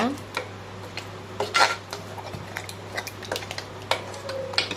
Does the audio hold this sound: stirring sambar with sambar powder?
yes